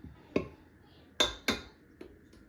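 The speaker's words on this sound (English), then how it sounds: "I'm gonna just take a spatula and mix that" A spatula works bread dough in a bowl, making a few sharp clinks and knocks against the side spaced out over a quiet background.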